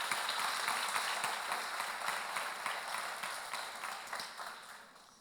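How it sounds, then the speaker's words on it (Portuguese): Church congregation applauding loudly at an evening service, a thick continuous patter of many hands that slowly thins and fades toward the end. "Vamos aplaudir o nome dele bem forte."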